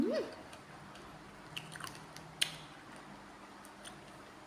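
Soft, close bites and wet chewing of a ripe strawberry, quiet, with a few faint crisp clicks over a low background hush.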